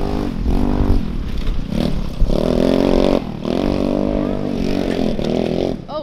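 A 150cc go-kart engine drives laps around a house, heard close as a loud, buzzing drone that rises and falls in pitch while revving, with some rattle, running continuously for about six seconds.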